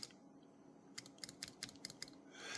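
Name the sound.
Smith Corona Skyriter typewriter type bar rebounding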